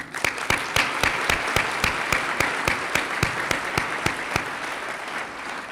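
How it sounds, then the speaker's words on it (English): Audience at an award event applauds the event committee, a steady spread of clapping with distinct sharp claps standing out near the front, continuing evenly for several seconds before thinning slightly. "I'd like to give another round of applause for the event committee"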